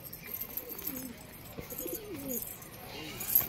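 A Rampuri pigeon coos in a few soft, rolling low calls over faint background noise, heard fairly close with a brief rustle near the end.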